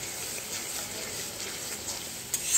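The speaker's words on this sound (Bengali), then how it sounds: "দিয়ে আমি একটু মশলাটা কষবো" Spice paste with red chilli powder sizzles steadily in a pan as it is sautéed for a home-style fish curry, a close, even hiss with a light stir near the end.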